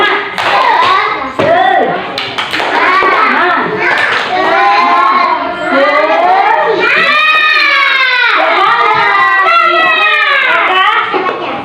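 A classroom of young children chants loudly in unison with rhythmic hand clapping, their high voices rising and falling in a sing-song pattern over several seconds.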